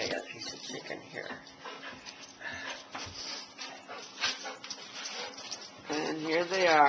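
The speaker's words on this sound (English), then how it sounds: "And here they are, all the puppies." Dogs whimper and yip excitedly close by amid clattering and a running-water-like hiss, with a person talking over the noise.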